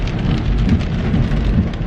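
Heavy rain pours steadily outdoors on a stormy day in Gatlinburg, a loud, dense, continuous wash of drops with no voices over it.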